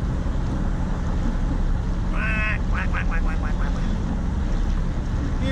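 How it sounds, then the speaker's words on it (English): A few ducks quack at close range on open water, a short burst of rapid quacks standing out against steady broadband wind and water noise. "Look, ducky ducky."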